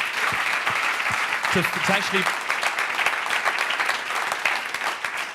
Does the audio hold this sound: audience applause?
yes